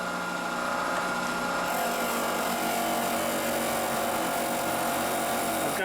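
Milling machine spindle turning at high RPM for a final finishing pass while making an angle pressure plate for a Kurt vise, a steady close whine with sustained tonal hum and no pauses.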